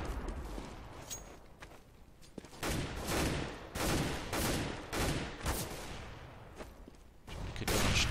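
Gunfire rattles in Counter-Strike on the de_dust2 map during a professional match, with repeated bursts of shots, some sharp and close, others in quick rapid runs, over a low din.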